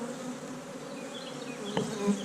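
Honeybees buzz steadily at an opened hive during winter beekeeping, a dense, close hum that stays even throughout with a brief louder swell near the end.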